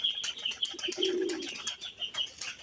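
High flyer pigeons coo softly and repeatedly nearby, with a low throaty call in the middle and light fluttering chirps throughout.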